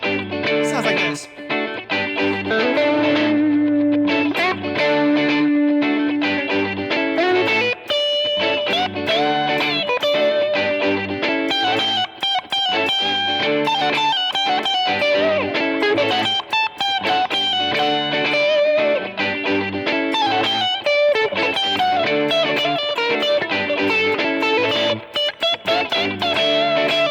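Electric guitar plays a distorted lead over a repeating looped rhythm part on an HX Stomp XL, dense and loud throughout.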